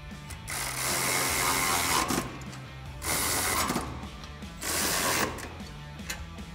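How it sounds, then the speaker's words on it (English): A 16 mm socket wrench ratchets while tightening the bottom bracket bolt of a Barricade brush guard on a 2016-2020 Tacoma, in three loud bursts of rapid clicking separated by short pauses. "we're gonna tighten down the bottom bracket using a 16 millimeter socket and wrench."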